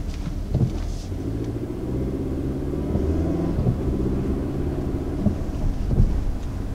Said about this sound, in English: So taking off here for the first time in the Santa Fe, power delivery seems very smooth.